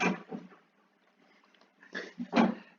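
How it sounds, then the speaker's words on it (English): A cat meows a few times in the background, faint and somewhat distant, with short bursts separated by a quiet pause. "that's my cat in the background"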